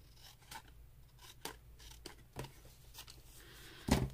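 Scissors trim paper for a junk journal collage, several short crisp snips spaced irregularly, close and quiet, the last cut the loudest, with no talk.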